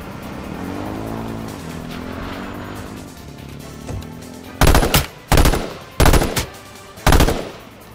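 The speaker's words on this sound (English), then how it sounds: "Someone's sniping us as well." Four loud, sharp gunshots from a sniper in the video game H1Z1, spaced about a second apart near the end, following a steady vehicle engine drone that rises and fades beforehand.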